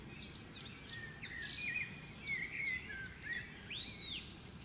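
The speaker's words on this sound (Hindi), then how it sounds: "सूर्य अस्त के समय उड़ते हुए पक्षी" Birds chirp and whistle at sunset, a series of bright, overlapping calls sounding moderately close over a soft, steady background hum.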